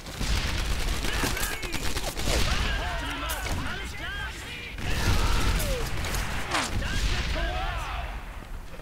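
Machine gun fire in the World War II shooter Medal of Honor: Airborne, with rapid bursts and scattered shots amid battlefield noise, loud and close, broken by short pauses, with game effects mixed in.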